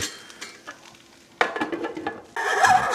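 Hash browns fry in a pan with a steady sizzle, broken by the close scrape and clink of a utensil stirring and turning them. A louder burst of sizzling comes near the end.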